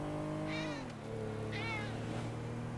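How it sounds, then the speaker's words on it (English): A cat meows twice inside a moving car, two clear, drawn-out cries about a second apart, over a steady low engine hum. "I'm about to beat the shit out of this cat while I'm driving, dude."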